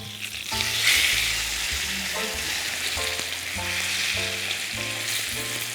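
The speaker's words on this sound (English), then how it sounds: "place our fish in the pan like so. We'll fry our fish on both sides until it gets a nice golden brown color" Fish fries in a pan on both sides for a Polish regional dish from Warmia-Masuria, giving a steady, close sizzle throughout. A faint tonal hum sits in the background, and no one speaks.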